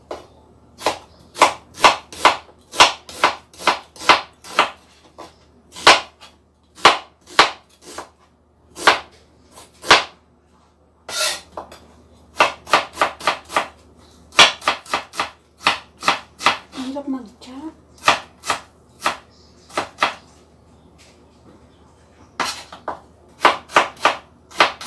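A knife chops onion on a cutting board in steady, rapid runs of sharp, close thuds, with short pauses between bursts while cooking minced beef with tomato.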